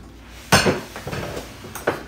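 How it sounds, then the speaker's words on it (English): Low carb stuffed Italian burrito filling is mixed in a bowl, giving a few close clinks and scrapes of utensil against dish, short and scattered. "So now I'm going to kind of mix this a little bit."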